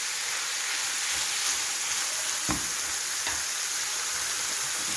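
Alexandrian-style liver with spicy peppers fries in a pan, giving a steady, dense sizzle with a few soft scrapes and knocks of stirring, close and alone without talk.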